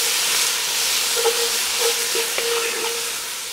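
Onions and peppers fry in rendered bratwurst fat, giving a steady, close hiss with a few faint pops and crackles scattered through it and no talking.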